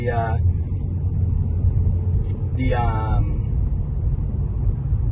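Rush hour road traffic in Washington DC, a steady low rumble of cars moving along switched lanes out of town, heard continuously with brief snatches of a voice over it.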